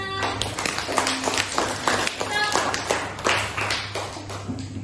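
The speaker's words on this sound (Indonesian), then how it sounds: "Tepuk tangan untuk kita semua." A classroom of students claps hands during a teaching practice lesson, giving a loose, uneven burst of claps close by, with a steady low hum underneath and occasional voices mixed in.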